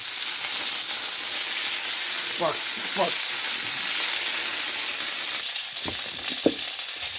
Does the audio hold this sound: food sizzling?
yes